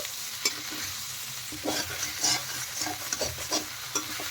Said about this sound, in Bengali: খুব সুন্দর করে কিন্তু কাঁঠাল ভেজে নিতে হবে।